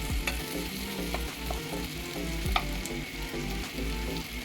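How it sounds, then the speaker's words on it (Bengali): Softened tomato mashed with a spatula in a hot frying pan, steady close sizzling and frying with occasional scraping strokes of the spatula, no talking. "আমি খুন্তি দিয়ে ম্যাশ করে নিচ্ছি।"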